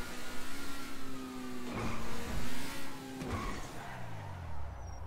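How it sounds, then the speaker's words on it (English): Infernus sports car in GTA 5 revving up, its engine note rising and falling over several seconds, with a tire skid and a swoop of pitch near the end; close and fairly loud, no voices. "It's definitely a good thing that I chose the Infernus, like I just stole it as the vehicle"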